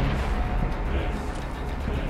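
Enemy gunfire in the zombie game Dead Island, a dense, steady rumble of distant shots and booms blended into a low, continuous roar without clear separate bangs.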